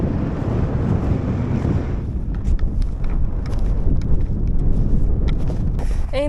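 Strong wind buffets the microphone at a snowy, rocky mountain summit, a loud, continuous roaring rush that dips and gusts with no voices.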